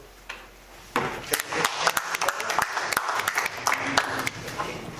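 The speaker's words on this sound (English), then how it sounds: "give our lady auditor a hand of applause for doing a good job" A city commission meeting audience in Hillsboro applauds the city auditor, a few scattered claps swelling into moderate, uneven clapping from a small room crowd that carries on steadily to the end.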